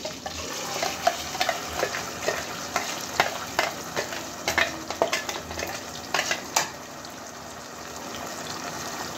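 Frying in hot oil for a fish masala curry, a steady broadband sizzle with frequent sharp crackles and spatters scattered throughout, close and continuous, with no talking.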